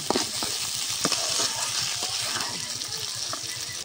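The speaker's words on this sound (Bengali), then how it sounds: "আর পেঁয়াজের সাথে খুব ভালো করে সবজিগুলোকে ভেজে নেব" Onions, potatoes, beans and carrots fry together in a pan for pasta, giving a continuous hissing sizzle with a few soft stirring knocks, close and steady.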